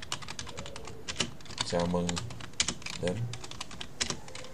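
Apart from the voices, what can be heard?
typing on a computer keyboard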